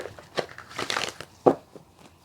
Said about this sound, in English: Let's give them one more shuffle.